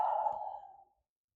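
A single soft exhale during a yoga forward fold, a breathy sigh lasting under a second and fading out, close and quiet.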